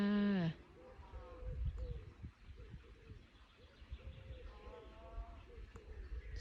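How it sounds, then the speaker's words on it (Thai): A bird gives a descending call at the start, then scattered cow calls and soft bleating-like cries over a faint, busy outdoor night background. "เสียงนกเสียงวัวร้องกันสนั่นเลยจ้า"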